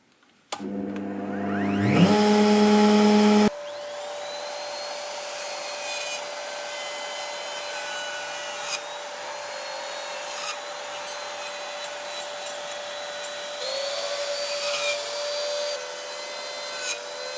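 A router cuts into a wooden SG-style guitar body filled with epoxy. A sharp burst of motor whine gives way to a long, steady high-pitched drone with scattered gritty cutting noises, loud and close throughout.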